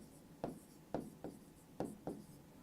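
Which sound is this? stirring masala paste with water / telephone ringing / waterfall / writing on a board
writing on a board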